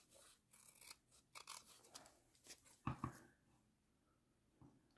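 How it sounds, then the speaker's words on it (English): Scissors snip through Scotch carpet tape used for fabric washi tape, a few quiet crisp cuts and rustles close up, with a sharper double snip midway and no talking. "you just take your scissors and you cut"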